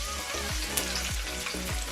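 Garlic, ginger and curry powder frying in hot oil for Jamaican curried goat, a steady dense sizzle with a few clicks of stirring, close and loud throughout.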